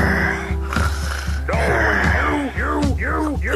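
Loud, close snoring fills the stretch: rasping, gasping breaths and snorts, with the later part settling into a quick run of repeated breathy snorts. Nobody talks over it.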